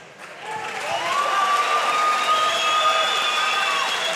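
Audience at a boxing event in 2023 applauds and cheers in a continuous roar of clapping and voices, with whistles or tonal shouts rising through it, loud and sustained.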